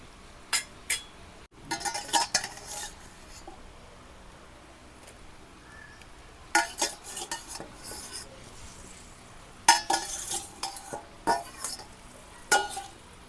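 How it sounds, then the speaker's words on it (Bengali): A spoon scrapes and clinks against a pan as fried paneer is stirred into masala gravy, coming in several bursts of metallic stirring separated by quieter pauses. "এখন ভাজা রাখা পনিরটাও দিয়ে দিব"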